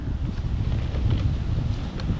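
Strong gusting wind buffets the microphone outdoors in the woods during a spring morel mushroom hunt in Oklahoma, a continuous low rumbling roar with a faint rustle of leaves and no speech.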